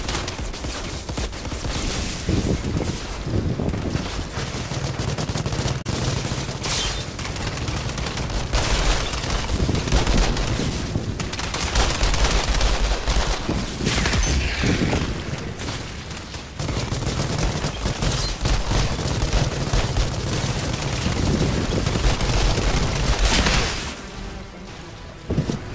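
Gunfire in the Outriders video game, a dense, continuous barrage of shots and booms that keeps up with only brief dips and no voices.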